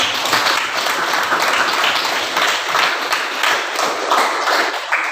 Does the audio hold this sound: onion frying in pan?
no